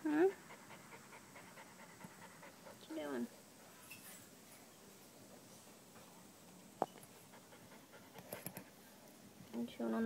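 A puppy pants in short, breathy bursts close by, the sound coming and going over a quiet indoor background with a few faint knocks and rustles.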